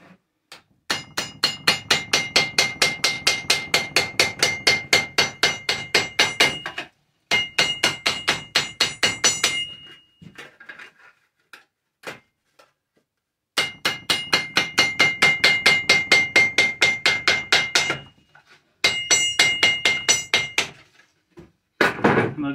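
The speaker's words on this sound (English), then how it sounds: "I get it flattened out, and then I take it on the rolled part of the anvil here." Flattened tin can metal is hammered on the rolled part of an anvil, with rapid, evenly spaced ringing metallic blows close up in long runs, separated by short breaks and a few scattered taps.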